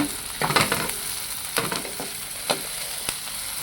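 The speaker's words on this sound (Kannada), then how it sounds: "ಸ್ವಲ್ಪ ಚೆನ್ನಾಗಿ ಹುರ್ಕೊಳ್ಳಿ ಬ್ರೌನ್ ಆಗೋ ತನಕ ಚೆನ್ನಾಗಿ ಫ್ರೈ ಮಾಡ್ಕೊಂಡೆ ಆಗಿದೆ" Food fries in a pan until browned for a greens stir-fry, crackling and sizzling up close as a spoon scrapes through it in a few uneven strokes, with no voices.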